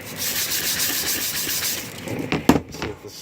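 Repeated back-and-forth rasping strokes of 220-grit sandpaper rubbing the wooden part of an old tool, steady and close, fading toward the end before a few sharp knocks and handling noises.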